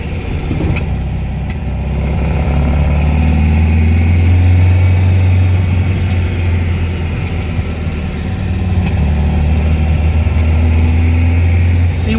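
Car engine running steadily while driving, a loud close drone with gradual rises and falls in pitch as it shifts down through the gears.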